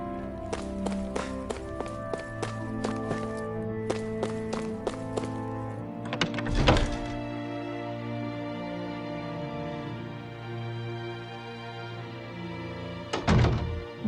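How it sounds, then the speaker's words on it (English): Hammers bang away in a game world of Tales of Arise: rapid bursts of sharp metallic strikes in quick rhythmic runs, then heavier isolated thuds, all over a steady ambient background music bed. "I always love the sound of hammers banging away."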